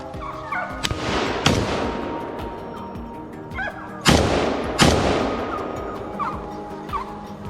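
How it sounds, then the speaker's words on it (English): Gunshots ring out during a wild boar hunt in a forest: several loud, sharp cracks spaced a second or more apart, each trailing off in echo, with animal grunts and squeals in between. "More shots echoed through the forest, signaling that this land had become a little safer once again."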